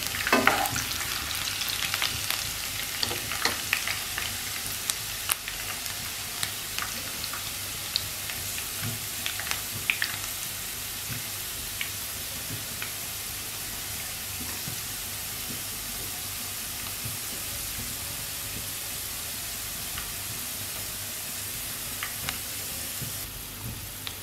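Onions fry in oil in a pan over medium heat, the start of a catfish and green banana curry. A steady, close sizzle runs throughout, with scraping stir clatter early on and no voices.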